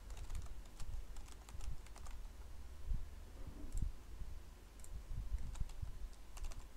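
Soft, quick keystrokes tap on a computer keyboard in irregular bursts, close and quiet, with no talking.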